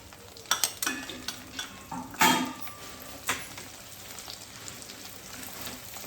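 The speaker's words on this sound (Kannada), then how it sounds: "ಬೆಳ್ಳುಳ್ಳಿ ಹಾಕಿ ಚೆನ್ನಾಗಿ ಫ್ರೈ ಮಾಡೋಣ." Chopped garlic frying with onions in a pan for a garlic chicken dish, a soft sizzle broken by several sharp scrapes and clinks of stirring.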